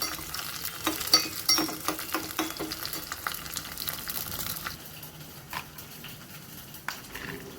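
Fenugreek seeds and green chillies fry in hot oil with a busy crackling sizzle and frequent stirring scrapes, loud at first and thinning to a softer hiss in the last few seconds.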